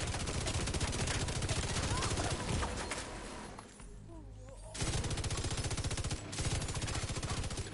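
Sustained automatic gunfire in The Division 2, a rapid rattling stream of shots that stops briefly midway and then resumes, loud and dense, with game voice lines mixed in.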